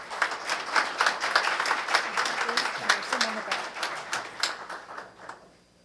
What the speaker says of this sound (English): If we could have a round of applause for Councilman Bamanto